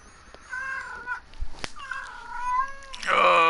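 A house cat meows repeatedly and loudly, several drawn-out cries close by, ending in a louder, harsher yowl.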